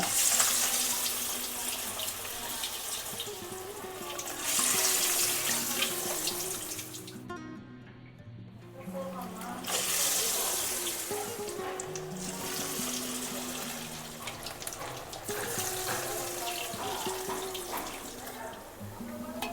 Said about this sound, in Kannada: ಇವಾಗ ಬೇಯ್ತಾ ಇದೆ ಎಣ್ಣೆ ಒಳಗೆ